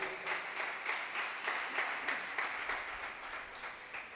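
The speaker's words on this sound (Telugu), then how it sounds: "గట్టిగా చెప్పలు కొడదాం దేవుడికి. Clap to God." A church congregation at a Sunday service claps in a steady, rhythmic beat. The claps are quiet and somewhat distant and continue evenly throughout.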